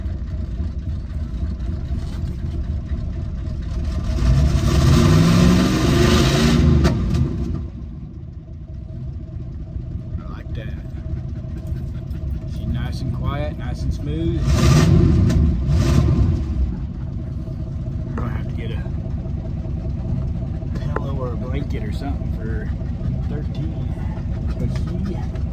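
A 1969 Cadillac Coupe DeVille idles with a low rumble, then swells twice into short revs before settling back. Someone talks over the engine.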